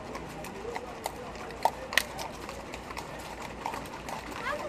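Many horses' hooves clatter on the ground during a cavalcade, faint scattered clip-clops with a few sharper knocks over a busy outdoor background and murmuring voices.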